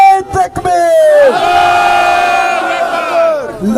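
At a political rally, a large crowd roars the Takbir slogan in unison, one loud sustained chanted cry from many voices that swells and then fades.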